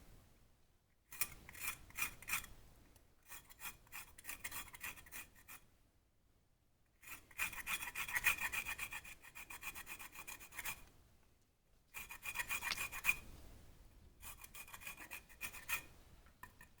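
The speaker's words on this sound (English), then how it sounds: "And for finishing up, a little bit of lime zest." Lime zest grated over a palate cleanser, with three bursts of steady rasping strokes separated by short pauses, close and clear with no talking.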